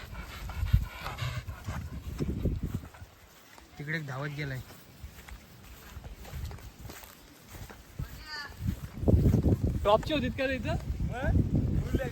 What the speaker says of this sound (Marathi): या कुत्र्याचं नाव कालू आहे कालू